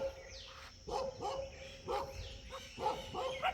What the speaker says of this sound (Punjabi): ਕੁੱਤੇ ਭੌਂਕਣ ਲੱਗ ਭਰਾਵਾ ਇਧਰ